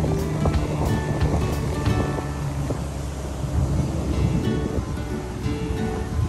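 Strong flood water rushes continuously with a heavy, churning roar, loud and close, with no voices over it.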